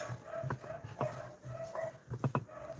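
Dogs bark repeatedly at a moderate distance, short sharp barks in an uneven rhythm, with a quick double bark near the end.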